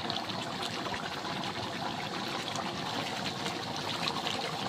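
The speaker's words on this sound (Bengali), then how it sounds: "বাবা ভীষণ জোরে ফুটছে তো।" Meat curry boiling hard in a pot, a dense, continuous bubbling and spluttering that stays loud and steady throughout with no voices over it.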